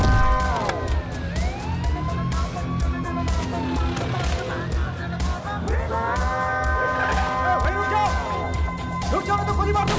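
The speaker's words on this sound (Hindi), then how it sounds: "एम्बुलेंस बुलाओ।" An ambulance siren wails in repeated rising and falling sweeps, loud and close, over a busy backdrop of traffic noise and tense movie music that runs throughout.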